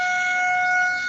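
A siren sounds at Bisalpur dam as its gates are opened, a loud, steady, sustained wail holding one pitch for the whole short stretch, heard alone without talk.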